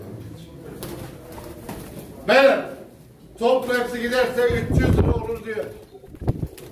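Pigeons coo at a pigeon auction, soft bursts rising under steady Turkish talk and bargaining voices nearby.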